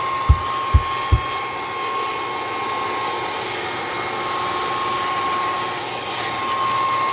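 Hair dryer blowing on faux skin, a steady, loud airflow roar with a constant whine that continues unbroken, preceded by a few quick bumps or taps at the start.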